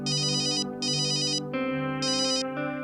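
A phone ringtone plays alone, a bright electronic melody repeating in short bursts over a steady tonal backing.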